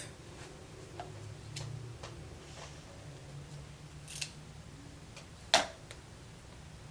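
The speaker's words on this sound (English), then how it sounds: "I'm gonna cut away some of this lace." Scissors snip through wig lace on a 13x4 lace-front wig, a few faint, scattered clicks with one sharper cut near the end, heard alone against quiet room hiss.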